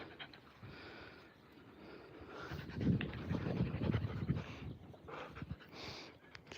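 Several dogs on a walk pant in quick rhythmic bursts close by, breathy and moderately loud over a faint outdoor background, with no talking.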